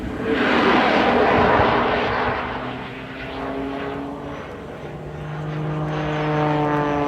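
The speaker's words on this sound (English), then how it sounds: "We are now flying with full thrust of the engine, flying up to a hole at the top." A fixed-wing propeller aircraft at the Blackpool Airshow roars overhead at full engine thrust, loud and sustained, its droning pitch sliding downward as it passes and recedes, with no voices.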